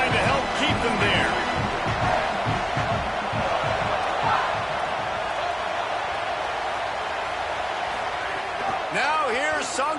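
Steady crowd roar from a stadium in an NCAA football video game, loud and continuous for the whole stretch, with a commentator talking over it.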